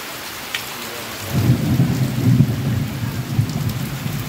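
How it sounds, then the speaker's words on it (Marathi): Heavy rain pours steadily while low thunder rumbles swell in, loud and close, with no voices. "जोरदार वादळी वाऱ्यासह जोरदार पावसाने हजेरी लावली आहे"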